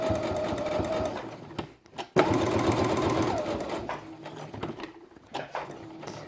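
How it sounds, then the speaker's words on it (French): A sewing machine stitches a felt quiet book page in steady rapid bursts, close and clear, pausing briefly once before running on with no talking. "N'oubliez pas de bien planter votre aiguille quand vous voulez tourner dans les angles, dans les arrondis, pour aider vraiment votre machine."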